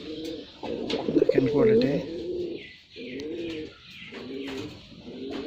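A pair of pigeons, a male and a female, coo in repeated throaty, wavering phrases close by, with a longer bout early on and shorter ones after pauses. Someone speaks briefly over them.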